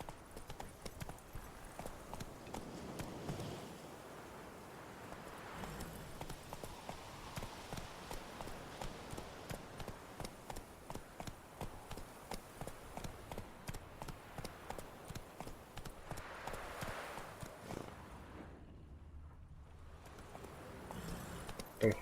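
In The Witcher 3, a horse's hooves clip-clop steadily as it trots and gallops, a regular rhythm that runs almost the whole time. A brief quiet gap breaks it near the end, with faint game ambience underneath.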